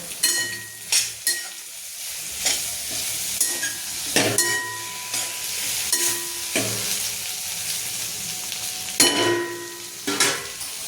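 Brinjal frying in a pan as coriander goes in, with steady sizzling broken by repeated stirring scrapes and clinks of a spoon against the metal, close and fairly loud.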